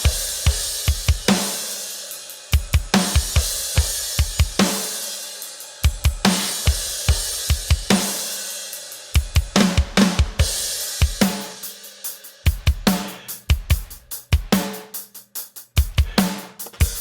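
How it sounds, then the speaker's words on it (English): Mixed drums from a song play in tight rhythmic bursts, punchy kicks and snare hits with bright cymbal wash, repeated in short phrases separated by brief gaps, loud and up front. "So now these are the fixed mix drums."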